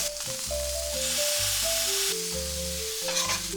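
A tomato and cheese sandwich sizzles steadily in a hot pan while being pressed down with a rectangular tamper, the frying hiss loud and close under a bright background melody.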